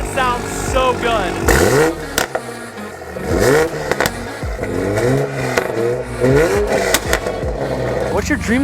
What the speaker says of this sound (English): Jake's Supra sounds so good.